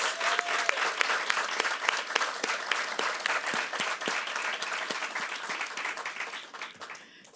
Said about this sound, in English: Please give our 2024 induction class members a big round of applause.